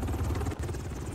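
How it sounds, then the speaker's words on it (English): A helicopter's rotor thumps in a rapid, steady chop during a video game's startup animation as troops rappel down from it, loud and close with a brief dip midway. "Love this startup animations where we're rappelling down from the chopper"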